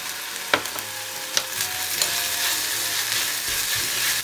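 Soy sauce hits hot chili oil in a pot, a bright, continuous frying sizzle with a few sharp pops and crackles, close and steady with no talk.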